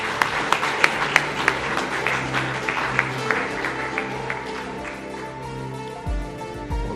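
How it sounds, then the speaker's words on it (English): Audience applause at a 2013 conference for presenter David Griffin, a steady wash of many hands clapping with sharp individual claps standing out, fading toward the end before a brief low thump. "big round of applause, please,"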